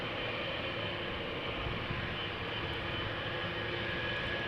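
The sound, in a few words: KLM Boeing 777-200 taking off at Amsterdam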